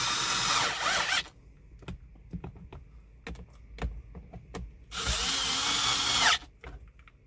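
Cordless driver spinning screws into the passenger-side dash of a 1997 Chevrolet Tahoe, two sustained whirring bursts near the start and end with scattered clicks and clunks of handling between them, close and fairly loud.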